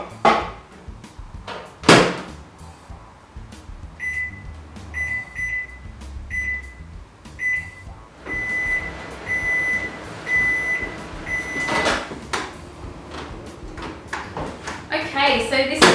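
A microwave oven heats candy melts at 40% power, its door clunking shut, keypad beeping in short chirps, then a low running hum with rhythmic beeps, a loud door clack and final rattling, with someone talking throughout.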